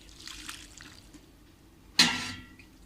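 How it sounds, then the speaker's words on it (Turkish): Boiling salted water, seasoned with rock salt, is poured from a small container over stacked grape leaves being preserved in brine, a single sudden splash and gush that trails off quickly after a quiet stretch. "Kaynayan suyu bu dizdiğimiz yaprakların üstüne döküyoruz"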